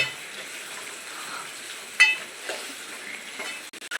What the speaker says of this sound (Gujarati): થોડાક ટાઈમ માટે આપણે આને ફ્રાય થવા દઈશું